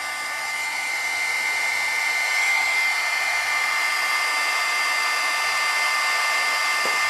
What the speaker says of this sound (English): I'm going to get this little dryer.